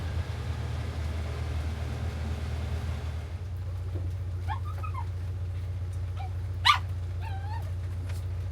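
Dogs aboard a narrowboat give several soft, high whimpers and one short yelp over a steady low engine-like hum. The cries are faint and scattered, and the yelp stands out once near the end.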